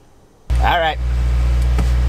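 A 2015 Subaru WRX engine settles into a quiet, steady idle right after starting, a low hum following a brief voice at the start.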